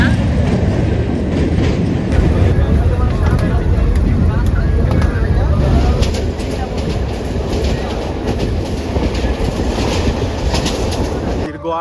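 A mail train bound for Sitakunda runs along the tracks, its carriages rattling and clacking in a dense, continuous rumble heard from on board, with steady wheel noise throughout.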